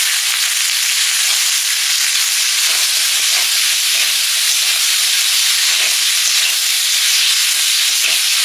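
Seven kinds of vegetables sizzle and fry in hot oil in a pan for a Bengali village-style chorchori, a loud, steady hiss that holds throughout with faint stirring crackles.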